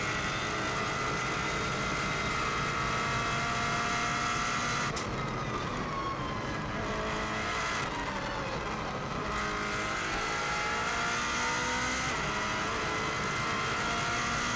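A rally car engine screams at full throttle on the Isle of Man road course, its high pitch climbing and dropping sharply at each gear shift, loud and continuous throughout.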